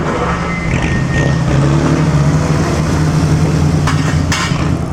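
Vintage cars in a Mille Miglia parade idle and roll past, a loud, steady low engine rumble close by, with a couple of faint higher tones and clanks near the end and no speech.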